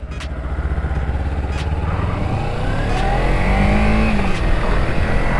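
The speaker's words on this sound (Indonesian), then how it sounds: "ini ya pakai knalpot bukan knalpot racing, pakai knalpot standar guys ya" A motorcycle fitted with a standard, non-racing exhaust starts off nearby, its engine note climbing steadily as it revs up and pulls away, loud and close throughout.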